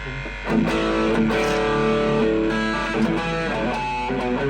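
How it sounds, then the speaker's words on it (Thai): A heavily distorted Telecaster-style electric guitar plays thick, sustained chords with a gritty, saturated tone, loud and steady throughout. "ต่อไปข้ามไปที่เสียงแตกกันเลยนะครับ"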